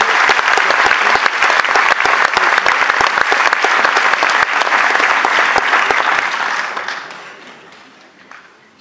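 Loud, sustained applause from a theatre audience at the close of a concert by the Orchestre d'Harmonie de Lorient, dense clapping filling the hall before tapering and fading over the last couple of seconds.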